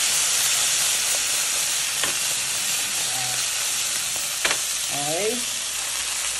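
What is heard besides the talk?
steak frying in coconut oil with garlic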